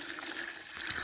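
Water poured gently into a bucket while making clay at home, a steady soft splashing gush heard close and alone for about a second.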